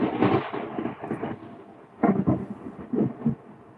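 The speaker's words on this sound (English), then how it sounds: "Who heard the thunder? That was a pretty good one." Rolling thunder from a storm during a power outage, with two or three deep rumbling bursts that swell and fade over a few seconds, fairly loud and alone, with no voices.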